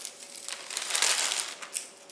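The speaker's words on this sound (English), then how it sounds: "Break up some of the bigger pieces." Lime-flavored Tostitos tortilla chips, roughly crushed in a plastic bag, being broken up further by hand, giving a close, dry, brittle crunching and crinkling that swells and fades over a couple of seconds.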